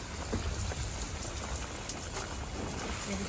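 Dense, continuous patter of water spraying onto garden plants, grapevine leaves and soil, even and fairly close, with no voices.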